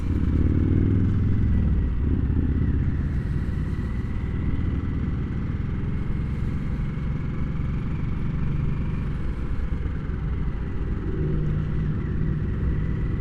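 Motorcycle engine of a 2022 Harley-Davidson Nightster roars steadily while riding, loud and close, with heavy low rumble and wind throughout, no talk.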